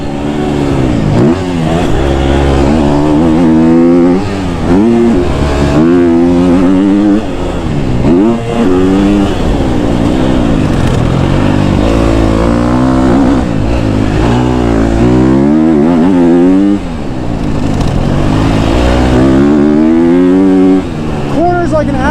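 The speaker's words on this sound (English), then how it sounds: "I love the engine on this bike, dude. It's so smooth and it pulls forever." A KTM 250 SXF four-stroke dirt bike engine revs loudly and repeatedly, pitch rising and falling through the gears as the motorcycle is ridden hard, close and continuous throughout.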